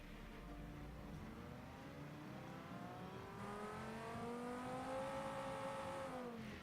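A car engine in the Automation video game revs up, its tone climbing steadily across several seconds, then dropping briefly and climbing again. The sound is faint and continuous, with no talk.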